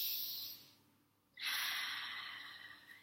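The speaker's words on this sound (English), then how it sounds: "Exhale through the mouth" A strong breath pushed out through the mouth during a guided stretching and breathing routine: a soft airy exhale trails off, a pause follows, then a louder, sharper breath rushes in close up, with no talking.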